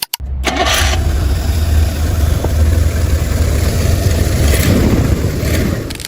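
Rolls-Royce Camargue with a 6.75-litre V8 and 3-speed automatic, its engine turning over and settling into a steady low idle rumble, loud and close, with no talking.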